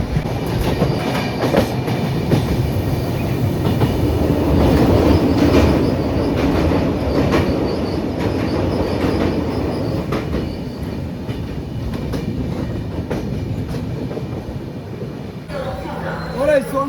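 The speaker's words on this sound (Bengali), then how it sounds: "ট্রেনে চলছে।" Inside a moving Vande Bharat Express train, a loud, continuous rumble with rhythmic clickety-clack of the wheels carries on throughout, with indistinct voices mixed into the noise.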